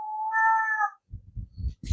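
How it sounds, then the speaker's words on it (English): A pet cat named Rosie lets out one clear, drawn-out meow close by, followed by a few soft thumps and rustles. "Did you hear that? It's my cat."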